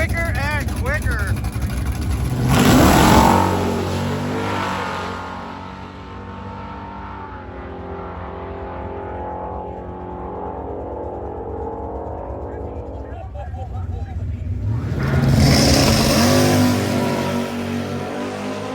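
A drag race car at a Sick Week event accelerates hard, its engine note climbing in pitch, easing off midway, then surging again loudly near the end, heard from trackside.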